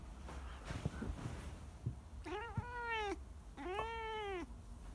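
A cat meows twice in a small work space, two drawn-out, clear meows after some faint clattering, quiet overall and heard without talk.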